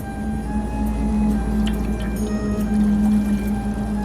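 Water being poured and splashing at a riverside campsite in Shivkhola, a continuous wet trickling and rushing over a steady low background hum, with no talk.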